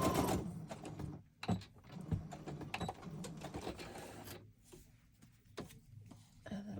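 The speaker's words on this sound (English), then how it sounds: "Just one straight stitch all the way to the top." A sewing machine runs one straight stitch on a DIY junk journal, its rapid mechanical chatter coming in bursts that stop and start, with short pauses between runs, close by.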